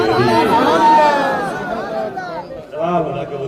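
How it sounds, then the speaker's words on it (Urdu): A gathered audience at an Islamic religious talk about the marriage of Hazrat Ali and Fatima calls out Subhan Allah together, a loud swell of many overlapping voices that fades, then rises again briefly. "دیکھنا کتنے لوگ سبحان اللہ کہتے ہیں"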